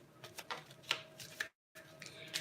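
A Rider-Waite traditional tarot deck being shuffled during a live reading, giving a series of soft, close riffling and tapping bursts with a brief silent gap partway through.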